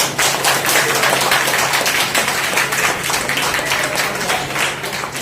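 Audience applause at a motivational marketing training session, a dense, steady wash of clapping filling the whole stretch at close, loud level with no break.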